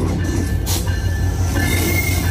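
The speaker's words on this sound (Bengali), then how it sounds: "এই যে ট্রেন ঢুকলো" A passenger train pulls into a station with a steady heavy rumble of wheels on rails, with thin metallic squeals riding over the continuous close roar.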